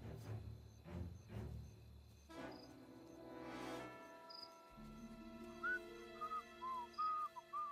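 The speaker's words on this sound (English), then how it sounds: "Thanks for whistling." A character whistles in the Mafia Definitive Edition video game, several short rising and falling whistled notes near the end, following game sounds and ambient music.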